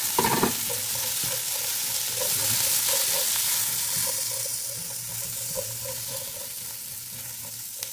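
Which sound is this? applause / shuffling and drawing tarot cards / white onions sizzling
white onions sizzling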